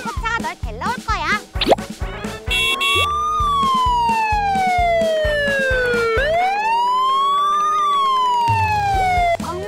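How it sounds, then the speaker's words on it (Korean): Toy ambulance siren during children's pretend play with a kickboard: an electronic wailing tone sweeps slowly up and down after a burst of rapid yelps, loud and close, with bouncy toy music under it. "조금 있으면은 구급차가 널 데려올 거야"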